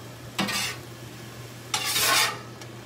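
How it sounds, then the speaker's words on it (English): Chicken fajita meat being stirred together with peppers and onions in a pan, two distinct scraping bursts of a utensil against the pan over a faint, steady background hum, fairly close and with no voices. "he's gonna mix the meat in with the peppers and the onions"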